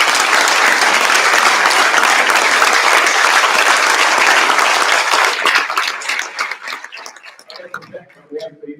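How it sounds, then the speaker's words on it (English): Crowd at a football banquet applauds the senior class: a dense, sustained wash of clapping that thins into scattered claps near the end. "I think they deserve another round of applause from you guys"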